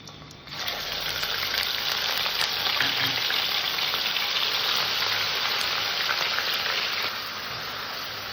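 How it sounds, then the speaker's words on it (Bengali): Grated onion crackles and sizzles loudly in hot oil while cooking katla fish kofta curry, a dense continuous frying hiss that eases slightly near the end. "এবার আমি এখানে দিয়ে দেবো ঘষে রাখা পেঁয়াজ"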